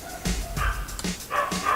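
A dog barks and yips in the background of a workshop where a table saw is set up, giving several short, moderately loud bursts in an uneven rhythm with no talk.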